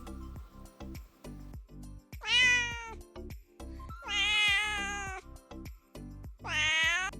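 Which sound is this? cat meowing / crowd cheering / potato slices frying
cat meowing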